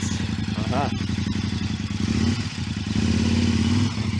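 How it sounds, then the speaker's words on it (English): A motorbike pulls away at a mountain stop in Ushguli, Georgia, its engine a loud, close, steady rumble with some clatter and a rising rev toward the end. "somebody leaving with their bike"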